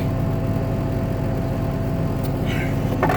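Steady low rumble of a tractor engine running at an even idle, continuous and close with a faint whir, on a cattle farm used for grinding hay.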